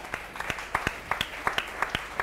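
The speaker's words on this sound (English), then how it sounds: "let's give it a round of applause for some fun" Sparse, quiet clapping from a small audience at a charity chef cooking competition. Distinct individual claps land in a loose, uneven rhythm with short gaps between them.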